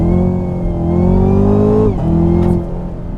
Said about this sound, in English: you haven't even done a launch in this yet, have you?